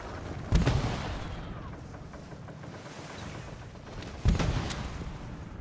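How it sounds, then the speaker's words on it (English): Ship cannon fire in the Skull and Bones naval game, two separate heavy booming shots a few seconds apart, each with a rumbling tail over quiet ambient sea noise. "I want to try out my new cannon."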